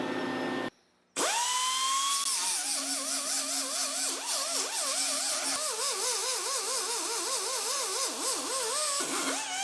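A 90-degree angle grinder with a 36 grit disc sands body metal on a 1968 Mustang outer wheel house, a steady high whine with wavering pitch after a brief silent gap at the start, running continuously.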